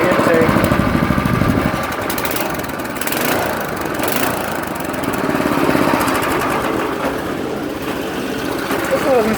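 A small two-stroke leaf blower engine runs steadily just after starting, a close, rough, buzzing drone with slight surging in its pitch and no voices.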